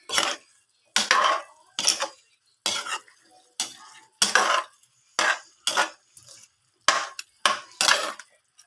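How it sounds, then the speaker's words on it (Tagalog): Chicken adobo ingredients with vinegar being stirred in a cooking pot, about a dozen sharp scraping clanks of a utensil against the metal in a steady rhythm, close and clear. "Para mag-mix ang ating mga sangkap."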